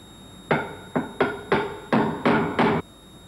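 A drift tool is hammered to drive a shaft seal into the flange of a 1983 Volkswagen Golf II gearbox, giving seven sharp metallic blows in a quick, slightly uneven rhythm, close and loud, with no talking.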